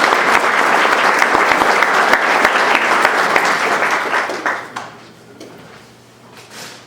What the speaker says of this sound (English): Please give all these people, volunteers, a round of applause.